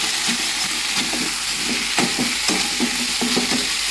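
Cauliflower frying in hot oil in a pan, a steady bright sizzle running throughout while a utensil stirs and scrapes in repeated short strokes, close and clear with no talking.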